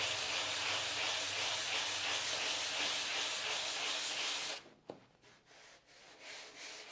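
An old door under restoration is scraped by hand, a steady, loud, rasping wood scrape that continues for several seconds before stopping abruptly, followed by a single tap and quiet shuffling.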